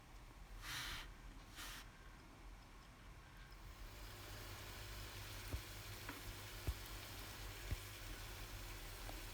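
Cinnamon, cardamom and a piece of butter stirred gently in a hot pan for a quail bhuna curry, giving a steady soft sizzle with occasional faint clicks of the spoon, close and continuous without talk.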